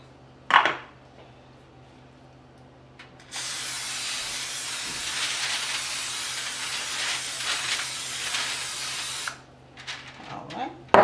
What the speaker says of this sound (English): And we spray it.